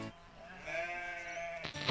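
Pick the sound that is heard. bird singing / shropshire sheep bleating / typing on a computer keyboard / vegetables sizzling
shropshire sheep bleating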